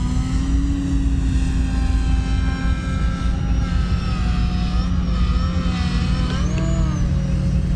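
A Turbo Timber Evolution RC plane on floats flies continuously, its electric motor a steady high whine that rises and falls in pitch as the throttle changes, with no talking.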